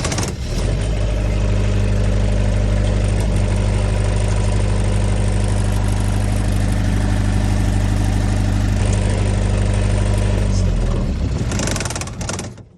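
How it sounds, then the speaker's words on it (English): Onan generator aboard a Lagoon 450F catamaran, housed in its own soundproof compartment, starting up and then running at a steady, loud, close drone for about ten seconds before cutting off. "So the Onan generator comes in its own soundproof compartment, and then it's also concealed in this forward sun lounge hatch as well, so it's very quiet."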